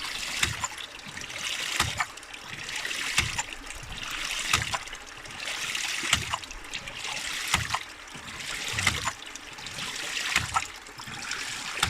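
Water from a hydraulic ram pump discharges in steady trickling and gurgling bursts, with regular surges every second or so as the pump cycles, a near, continuous watery splash with almost no air bubbles.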